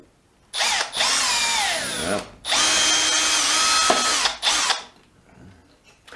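A power drill whines up and down in close, loud bursts while driving screws into wood for stair runners, three long runs separated by short pauses.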